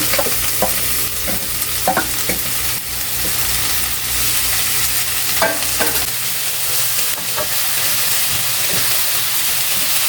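Bitter gourd stir-fried with garlic, onion and tomato, a loud continuous sizzle punctuated by repeated clacks and scrapes of a spatula stirring the pan, with a low background hum that drops away partway through.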